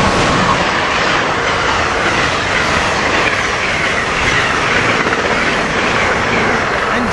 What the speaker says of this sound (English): Here we got what is train 91, the Silver Star coming through